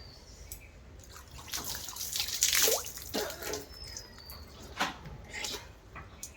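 Water poured and dripping during a bath at a tap in a bathroom: scattered close drips and soft splashes, fairly quiet, with one fuller pour in the middle.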